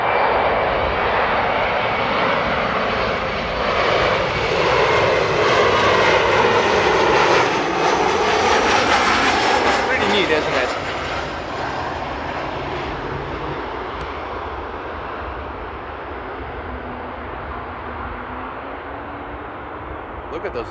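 A regional jet, an Embraer E175, arriving on the runway at Amsterdam Airport, a loud broad roar of aircraft engines close by that peaks and then slowly fades into a steady whine, with someone speaking.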